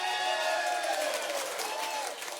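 A studio audience applauds and cheers to cast a vote, a sustained wash of clapping with whoops and shouts that swells early and tapers off slightly toward the end.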